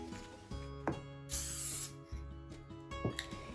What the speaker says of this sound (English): go ahead and take your adhesive spray and lightly just spray the tops